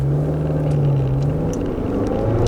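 A manual transmission car engine hums steadily as it holds a gear toward about 4,000 RPM. The drone is loud, constant and close, with no break for a shift and no talking.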